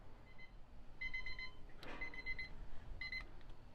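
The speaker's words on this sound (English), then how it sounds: "So my timer went off." A kitchen timer goes off while cookies bake on a Blackstone griddle: short bursts of electronic beeping repeat about every two seconds over a low background hum, with a brief clatter between them.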